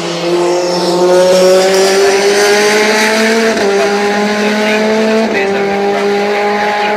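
Racing cars roar past on the Oulton Park circuit on a last lap, loud, sustained engine drones shifting pitch with gear changes and a faint tire squeal, close and dominant throughout.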